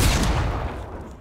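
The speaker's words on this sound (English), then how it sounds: "I think I'm gonna SMG this boy" SMG fire in the game Fortnite, a loud, dense burst of rapid gunshots that fades within about a second, heard alone with no talking.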